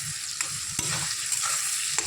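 Brinjal fries in a pan and is stirred, giving a continuous close sizzle with repeated scraping strokes of a spatula.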